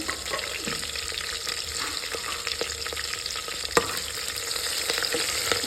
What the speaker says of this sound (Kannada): ಒಗ್ಗರಣೆ ಆಗ್ತಾ ಇದೆ